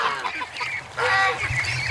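Several geese escorting ducklings honk in loud, overlapping bursts close by, with a brief lull before a louder cluster of calls.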